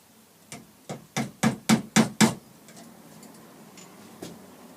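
Hammer tapping brass pins into a wooden walking stick, seven sharp, evenly spaced knocks in quick succession, close and clear, followed by one fainter tap after a pause.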